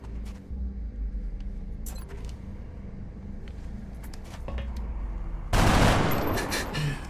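SMG fire in XCOM Long War during an alien base assault: a few scattered sharp cracks, then a loud broadband burst of rapid shots near the end.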